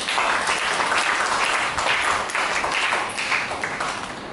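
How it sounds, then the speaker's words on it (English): A church congregation at a Sunday service claps together as an offering, a dense, sustained roar of hand claps running steadily throughout and easing slightly at the very end. "Give God a clap offering."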